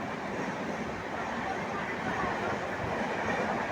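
Virar local train in Mumbai starting to move, a steady broadband rumble of wheels and carriages with faint rhythmic clatter, close and continuous throughout.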